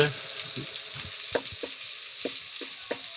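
Ginger garlic paste fries in a pan for an aloo kurma, giving a steady hiss with a few soft stirring knocks and scrapes spaced through the stretch, close by and with no talk.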